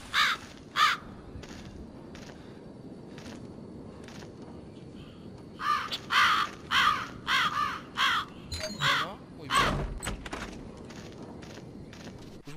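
Several crows caw in short bursts in the video game Land of the Dead, a couple early on then a rapid cluster of harsh calls, over a low mechanical background hum.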